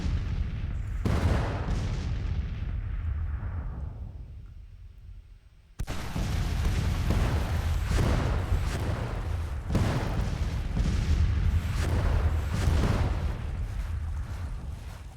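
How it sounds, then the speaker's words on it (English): Booming artillery fire in the Civil War strategy game Grand Tactician, with repeated heavy cannon shots and rolling explosions at mid distance, one reverberant blast decaying into quiet before a steady run of further thuds. "These guys probably firing on my artillery"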